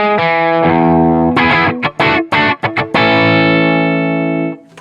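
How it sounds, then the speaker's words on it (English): Electric guitar played on the bridge pickup with light gain through an amp, ringing sustained chords broken by a few short choppy strums, loud and alone, the last chord decaying away. "let me crank it up and show you how good the bridge pickup sounds with a little bit of gain"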